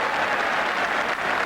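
Rugby league crowd at a Wigan versus Bradford match applauding a touchline goal kick, a dense, steady roar of clapping and cheering from a large stadium audience, sustained and fairly loud with no break.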